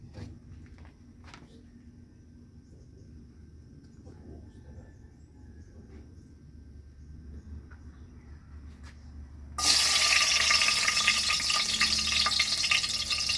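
Bagoong shrimp paste hits a hot pan and erupts into loud, steady sizzling frying close by, after a quieter stretch of faint kitchen clatter and background hum.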